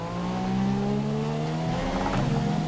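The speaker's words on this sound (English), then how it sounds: "Kind of let it rev out a bit too much there." An F1 car engine revs high in the video game F1 2017 at Bahrain: a loud, steady, whining tone with harmonics that climb slowly, and light tyre scrubbing under it.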